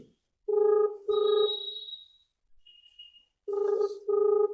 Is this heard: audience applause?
no